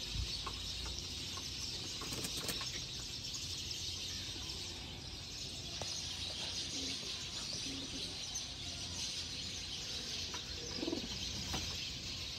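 Pure-breed pigeons cooing in a loft, soft, distant, low coos scattered through a faint, steady background with occasional chirps, no voices.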